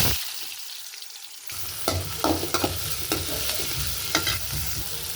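Onions dropped into hot oil in a pan, a sudden loud sizzle that keeps frying steadily, broken by a few scraping stirs close by, with nobody speaking.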